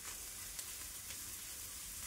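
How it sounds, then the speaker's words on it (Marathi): Green chilli thecha stir-fried in a pan gives a steady, close sizzle and frying hiss that runs unbroken, with a couple of faint scrapes on top. "ठेचा अगदी 1 मिनिट परतायचा आहे आपल्याला।"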